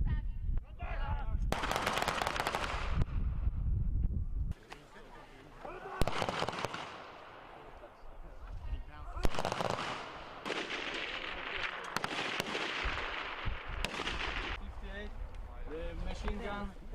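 A machine gun firing at a combined weapons range in Slovakia, loud booming bursts and sharp cracks repeating over several seconds, with people talking between the shots.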